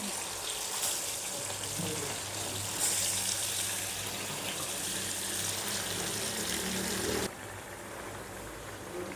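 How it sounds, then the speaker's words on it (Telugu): Marinated stuffed eggplants frying in hot oil: a dense, steady sizzle and bubbling fills the scene, then drops abruptly in level near the end. "చూసారండి ఎలా ఉడుకుతుందో."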